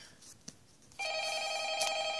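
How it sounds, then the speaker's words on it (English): Telephone starting to ring in a video game, a bright electronic ring that begins abruptly after a quiet moment with a faint click and continues steadily to the end. "Another call from phone guy."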